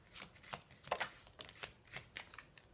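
Tarot cards shuffled and handled by hand, with a run of soft, rapid riffling flicks coming in short bursts, close and fairly quiet, with no talking.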